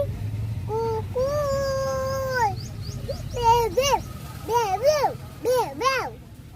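A child mimics a dog with a long sustained howl followed by a string of short, rising yelping barks, close and clear.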